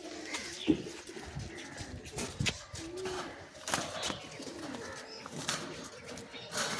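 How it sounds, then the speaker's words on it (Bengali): Pigeons at a home loft cooing close by: repeated soft, throaty coos in uneven phrases, with faint background noise and no clear talk. "এই যে পায়রা দুটি"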